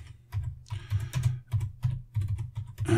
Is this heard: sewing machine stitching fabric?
no